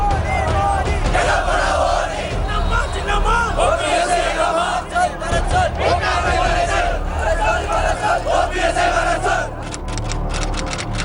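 A dense protest crowd at Marina Beach in Chennai demands Jallikattu, with a constant roar of massed voices, shouted chants and cries rising and falling across the whole stretch.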